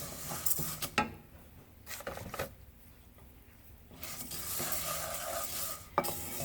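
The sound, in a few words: toasting fideo noodles in pan on medium heat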